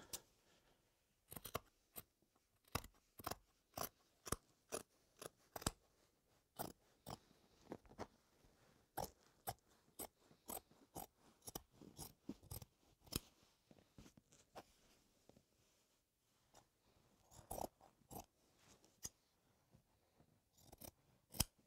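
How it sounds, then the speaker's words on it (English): Scissors snipping excess slipcover fabric off a sofa bed, a quiet series of sharp, irregular crisp cuts close by with short pauses between. "Let's cut this excess off."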